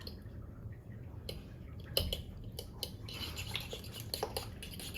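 Eggs whisked in a bowl with a utensil, giving close, irregular clinks and wet scraping strokes over a soft steady background.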